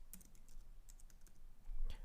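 Quiet typing on a computer keyboard, a run of soft, irregular key clicks heard close, with a slightly firmer pair of taps near the end.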